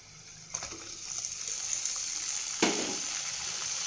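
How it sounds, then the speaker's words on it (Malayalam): Onions and potatoes fry in a pan, giving a steady close sizzling hiss that swells with a sharp burst partway through, without any talking. "സവാള ഒന്ന് നന്നായിട്ട് വഴന്നു വരട്ടെ. സവാള നന്നായി വഴന്നു വന്നിട്ടുണ്ട്."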